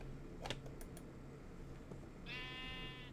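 Sheep bleating in Minecraft, one clear bleat near the end after a few soft clicks, quiet and close.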